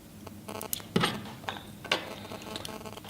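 A small star head screw is turned out of an iPhone 5C during a screen repair, giving faint, close, irregular ticks and ratchet-like clicks with a few sharper snaps, and no talk.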